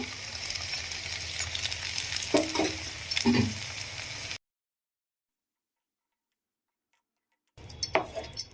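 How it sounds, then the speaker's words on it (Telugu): Onion and tomato puree fry in a pan for a mushroom curry, giving a close sizzling crackle with a few light clicks. A long silent gap follows before the frying sound briefly returns. "మూత పెట్టి ఫోర్ ఫైవ్ మినిట్స్ ఇలానే ఫ్రై అవనిద్దాము"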